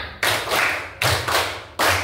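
A primary school class claps in unison as part of a counted clapping routine: three loud, sharp group claps, evenly spaced, ringing briefly in the classroom.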